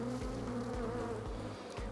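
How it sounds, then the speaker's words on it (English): Honey bees pour out of an opened multi-level beehive box, a dense, close, continuous buzzing drone with no voices. "the first bees that come out are the guard bees"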